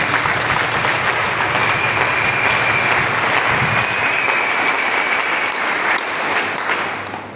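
A wedding congregation at a church nuptial blessing bursts into sustained, dense applause mixed with cheering, steady and loud throughout before tapering off at the end.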